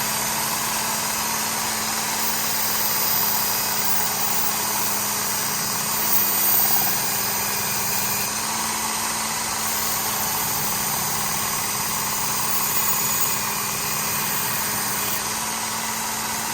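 A Work Sharp Ken Onion Elite knife sharpener's motor runs at a steady, even whine with a low hum underneath, continuous and unchanging for the whole stretch, with no voices.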